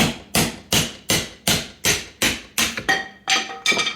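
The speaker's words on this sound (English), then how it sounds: "you use the punch on top of the handle," A hammer strikes a punch set on top of a broken axe handle to drive it out of the head, about ten loud, evenly spaced metallic blows ringing out close by, with no speech.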